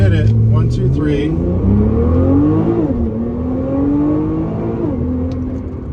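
An R35 Nissan GT-R with a GR6 transmission accelerates hard during a transmission test. The engine note climbs through the gears with audible shift dips, loud and close as heard from inside the car, with a voice speaking over it.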